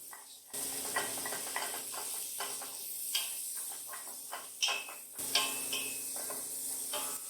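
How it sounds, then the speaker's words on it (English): A wooden spoon scrapes and stirs onions across the bottom of a pan over a steady sizzle, with irregular scraping strokes and clatter close by. "use this wooden spoon to scrape the bottom of the pan"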